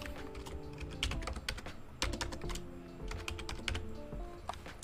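Rapid, uneven clatter of keys on a computer keyboard as an email address is typed into an online application form, with quick bursts of clicks close to the microphone and no voices.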